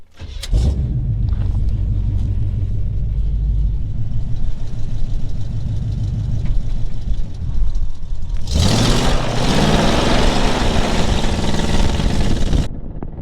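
A 1970 Chevelle, just fitted with a newly installed transmission, drives along with a steady, rumbling engine note that stays loud and continuous, then swells into a harsher, revving roar partway through.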